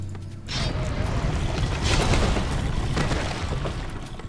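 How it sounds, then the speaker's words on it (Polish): A loud, sustained explosion in Warcraft III: Reign of Chaos with a sharp burst, then rumbling, crackling debris that keeps churning for several seconds. "wybuch"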